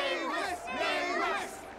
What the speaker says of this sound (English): Gift our applause and cheers to these brave and dauntless Nameless.